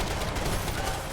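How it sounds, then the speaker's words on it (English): Sustained assault rifle fire in Max Payne 3, a dense continuous rattle of rapid shots filling the whole moment at steady loudness with no pauses. "it's an assault rifle"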